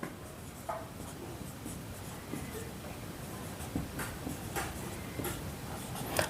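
Pen scratching across paper while writing out a percentage maths problem, a string of close, soft scribbling strokes with brief pauses between them.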